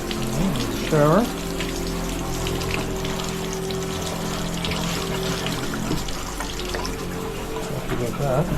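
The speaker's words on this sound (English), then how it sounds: "Shower." A running shower sprays in a bathroom as a steady hiss of water, with a voice briefly heard and some faint tonal sounds over the constant flow.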